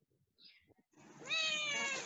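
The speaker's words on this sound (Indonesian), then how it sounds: "kucing Sabrin ya bunyi" A cat gives a single drawn-out meow, close and clear, rising in and holding for nearly a second after a few faint rustles and a brief higher squeak.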